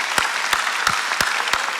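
Church congregation at a Korean ordination service clapping in unison, five sharp, evenly spaced claps under a steady background of crowd noise, fairly close and loud.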